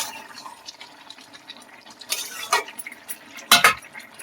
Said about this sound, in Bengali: ঢাকাটা খুলে দেখবো তরকারি।